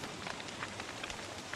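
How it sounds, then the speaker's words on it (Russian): Rain falls in the survival video game Don't Starve: Reign of Giants, a steady close patter of drops on surfaces with scattered brighter taps. "Я же весь намок. Тупо ждать конца дождя."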